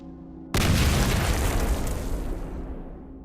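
A sudden loud explosion in the Cataclysm DDA video game, bursting in after a quiet hum and then rumbling and fading away over a few seconds.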